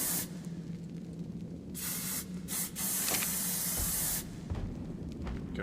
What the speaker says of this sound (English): we're going to go ahead and use the spray